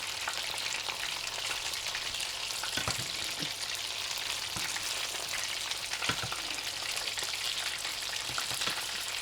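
Fish coated in thick paste fries in hot oil in a street-food-style fish fry, with a steady dense sizzle and occasional soft pops and stirring clinks.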